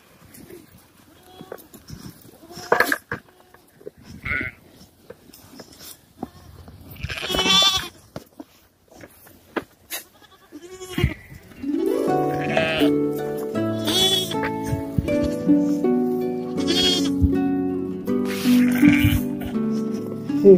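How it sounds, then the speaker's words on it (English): Sheep and goats bleat repeatedly at a home petting zoo, calls overlapping near and far, with someone talking among the animals as background music swells in the second half. "There are goats."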